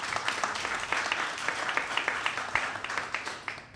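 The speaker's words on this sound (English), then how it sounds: "That deserves an applause." An audience at a community crisis forum in Westchester County claps. Individual hand claps stand out as sharp, uneven strikes in a modest, fairly faint round of applause that thins toward the end.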